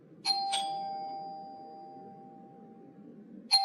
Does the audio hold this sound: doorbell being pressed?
yes